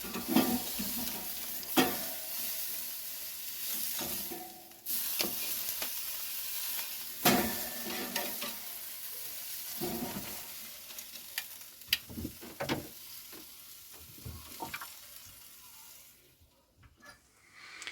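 A tomahawk steak sizzles on a Kamado Bono grill with a soft, steady frying hiss, broken by scattered crackles, pops and a few sharp clinks, fading out near the end.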